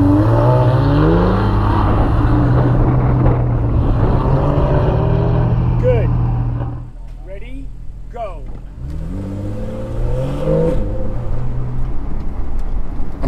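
A Porsche 911 GTS on an autocross lap, its engine droning and revving steadily at close range with rising and falling pitch, easing briefly mid-run before pulling hard again; a voice talks over it.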